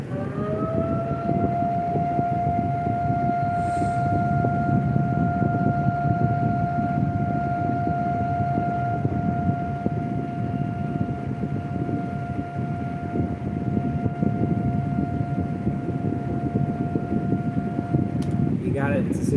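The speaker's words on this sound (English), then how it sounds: "That's the siren." A loud Super Banshee siren holds a long steady wail for nearly twenty seconds under a rough rumbling background, then cuts off at the end.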